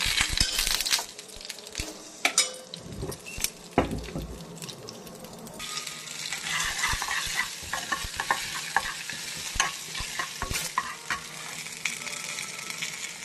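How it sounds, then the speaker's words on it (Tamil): Mustard seeds, chana dal, urad dal and a dried red chili fry in hot oil with a continuous crackling sizzle, mixed with stirring scrapes and occasional sharp pops, close and fairly loud, without any talk. "கடலைப்பருப்பு கொஞ்சம், உளுத்தம்பருப்பு இதளவு, ஒரு காஞ்சி மிளகா போட்டுக்கோங்க"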